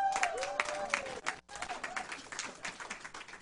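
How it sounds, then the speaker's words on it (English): Applause and clapping from an audience welcoming new members onstage at a Laminine business event in the Philippines, a sustained busy patter that briefly drops out, with a voice speaking over it. "Let's bring them all up with a round of applause."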